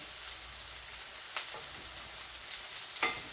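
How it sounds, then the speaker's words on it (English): Ground turkey browns in a pan with a soft, continuous sizzle. Two brief scraping stirs cut through the hiss, and nobody talks. "The meat is starting to brown finally."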